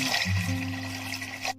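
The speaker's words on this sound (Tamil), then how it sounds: "இப்போ இதை தண்ணி ஊற்றிடலாம்" Water running steadily into a pressure cooker holding 250 grams of soaked chickpeas, a continuous close splashing pour that lasts the whole moment with a low hum beneath.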